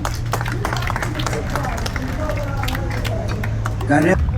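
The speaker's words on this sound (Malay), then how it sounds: "Satu tepukan pada anda semua" Audience applause at an evening press conference for Terengganu International Bike Week, a steady patter of many hands clapping with crowd murmur throughout, swelling briefly louder near the end.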